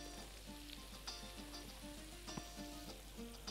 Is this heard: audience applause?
no